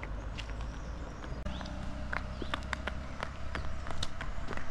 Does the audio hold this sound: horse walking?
yes